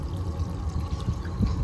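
Water runs steadily from the outlet of a tub heater into a tub, a continuous low splashing pour with no talking.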